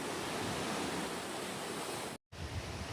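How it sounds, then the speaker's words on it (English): The swollen Stillaguamish River, high after heavy rains, rushes in a dense, steady roar of flowing water, close and unbroken except for a brief dropout near the end. "This is the Stillaguamish River, and the river feels very powerful today"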